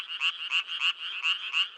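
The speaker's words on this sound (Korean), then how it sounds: "제 시기에 깨어난 개구리들도" Frogs croaking in a forest pool, a loud, close, steady chorus of rhythmic pulsed calls repeating about every quarter second with no talk over it.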